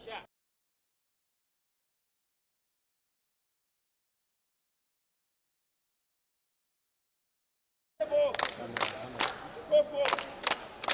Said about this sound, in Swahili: ngoja tunapiga makofi ya kilo kumkaribisha